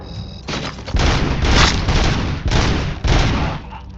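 A burst of film gunfire from RoboCop erupts after a brief quiet, several heavy booming shots in quick succession, loud and close, fading at the end.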